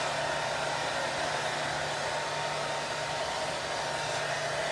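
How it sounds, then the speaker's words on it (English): Steady, loud whooshing roar of a hair dryer blow-drying a short bob haircut with a paddle brush, continuous and close with no breaks and no voices. "I'm just going to dry this pretty quick with a paddle brush"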